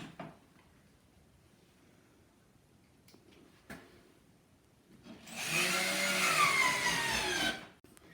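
Power screwdriver driving screws through plasterboard into battens on a brick house extension, one loud sustained whirring burst of about two and a half seconds after quiet room sounds and a few faint knocks.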